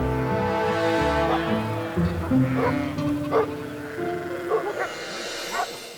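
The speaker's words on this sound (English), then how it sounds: "Some stay with the herd, others bark the alarm" Several Maremma sheepdogs bark an alarm in short, scattered bursts over a steady musical background, moderately loud and a little distant.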